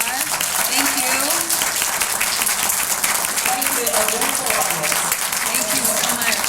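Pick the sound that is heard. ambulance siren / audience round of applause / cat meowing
audience round of applause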